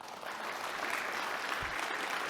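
Applause from an audience of partners and realtors at a downtown Detroit business event, a steady dense clapping wash held at moderate level throughout.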